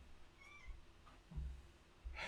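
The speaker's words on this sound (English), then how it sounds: "I let my cat in, and she's exploring." A cat exploring an indoor streaming room gives a few short, faint meows, spaced apart over quiet room noise.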